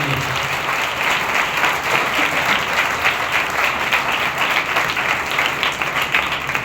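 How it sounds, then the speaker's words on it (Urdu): A congregation claps loudly and continuously during an Urdu-language Sunday church service, a dense, even roar of many hands, close and sustained, with no talking over it. "آئے زوردار تالیاں بجائے خدا کے جلال کے لیے۔"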